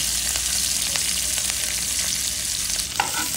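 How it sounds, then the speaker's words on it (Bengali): Sliced onion frying with a little turmeric in hot oil, a steady, close crackling sizzle with a few stirring scrapes of a spoon in the pan, heard alone with no talking. "পেঁয়াজটা ভেজে নেব"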